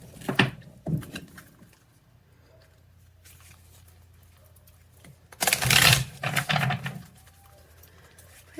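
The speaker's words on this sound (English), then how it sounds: "I'm going to pull some moon cards here." Tarot cards pulled from a deck during a full moon reading, heard as a few quick papery shuffles and slaps, close and moderately loud, with quiet gaps between bursts.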